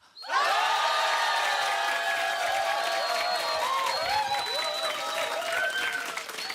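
A large outdoor audience at an SBS Love FM family concert roars on cue, with sustained cheering, shouting and applause from many voices. It rises suddenly and stays loud throughout.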